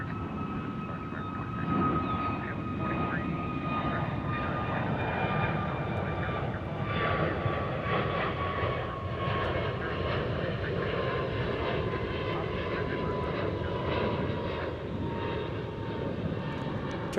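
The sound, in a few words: Turkish Airlines airliner at DFW airport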